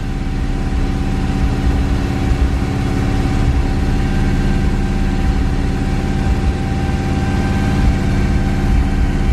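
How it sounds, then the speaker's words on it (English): Chevrolet El Camino V8 idling in drive with a loping cam, a steady low rumbling idle with a faint uneven lope, close and continuous with no talking. "when you click it into drive, you really get to hear the engine start, the idle, the loping of the cam"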